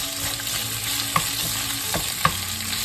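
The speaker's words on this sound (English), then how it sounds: "At the same time, we're kind of like frying them a bit." Steady sizzling of cornstarch-coated beef stir-frying with bitter melon in a hot pan, with occasional clicks of a utensil stirring and scraping.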